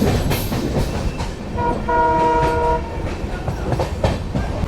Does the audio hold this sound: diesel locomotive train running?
yes